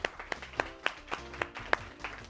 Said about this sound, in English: A round of applause for the Kettering team.